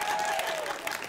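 A brief burst of audience hand clapping at a community budget forum, dense and fairly loud throughout the short moment.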